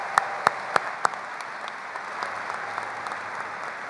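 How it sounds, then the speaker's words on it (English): Applause at a high school commencement, opening with four sharp, close claps before settling into steady, softer clapping from a distant crowd in a large venue. "Let's give them a round of applause."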